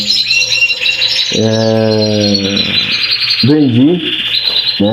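Canaries sing in a bright, continuous run of warbling trills and rapid chirps, loud and close, with a few lower rattling and buzzy phrases woven through.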